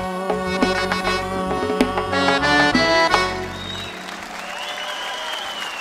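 At a live Uzbek pop concert, music with sung notes and a steady beat plays for about three seconds before fading into audience applause and cheering, a scattered clapping wash that continues to the end.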